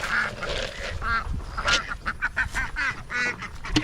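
Farm ducks quack in repeated nasal bursts, several birds calling over one another in a busy, uneven rhythm, fairly loud and close.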